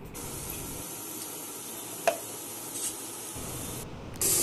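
Green chillies sauté in a pan for country chicken curry with an even, hissing sizzle that runs throughout, broken by a sharp click and a short louder burst at the end.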